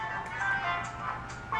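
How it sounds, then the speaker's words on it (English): A garage door alarm plays a faint electronic jingle, a tinkling melodic chime that repeats softly over low background hum. "That's my alarm that my garage door opened."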